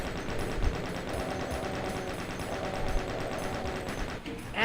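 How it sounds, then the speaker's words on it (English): Chain gun firing in the Doom mod KDiZD, a continuous rapid rattle of shots held steady and loud for several seconds, with dense game noise underneath and a brief dip before it resumes. "I should probably take my chain gun out"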